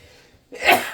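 A single sharp sneeze bursts out after a short quiet lead-in, loud and close, with a brief breathy tail.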